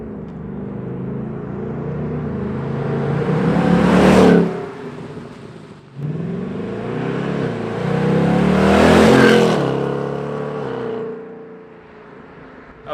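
Stock 2019 Ford Mustang GT 5.0 V8 without the X-pipe, its exhaust roaring past twice in loud flybys, each swelling to a peak and fading, with no talk.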